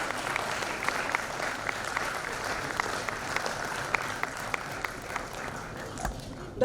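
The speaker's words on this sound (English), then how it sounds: "A huge round of applause, please." Applause from a medical conference audience as a chairperson is called up for a memento, a sustained field of clapping at moderate level, with some voices likely mixed in and the sound thinning out near the end.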